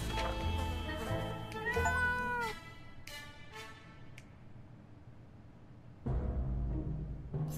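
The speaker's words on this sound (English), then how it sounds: "I didn't want a cat!" Cat meowing in the game 60 Seconds! Reatomized, a couple of loud, close meows early on over game music, which then drops to a quieter lull before the music returns.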